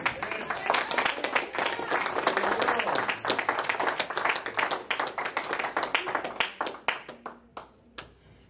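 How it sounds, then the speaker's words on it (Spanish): A church congregation claps together in dense, sustained applause that fills the room, then thins into scattered individual claps and slowly fades out. "Denle un aplauso."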